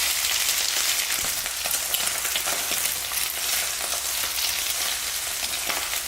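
Beaten egg for egg fried rice fries loudly in a hot pan, a bright, constant sizzle broken by scraping stirs of a spatula.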